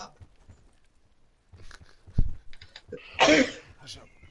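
A person sneezes once, a sharp, fairly loud burst during a co-op video game session, following a brief thump and quieter background sounds.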